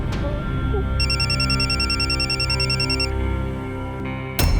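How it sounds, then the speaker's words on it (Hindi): A telephone rings with a repeating electronic warble for a couple of seconds over a low background hum, then stops. "जतिन, आदिति का फोन है, मैं उठा लूं?"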